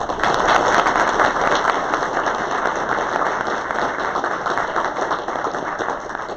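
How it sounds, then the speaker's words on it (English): A mayoral forum audience gives a warm round of applause, dense continuous clapping from many hands that starts strong and eases a little over several seconds, with a faint steady electronic hum beneath. "Would you please give both of them a warm round of applause?"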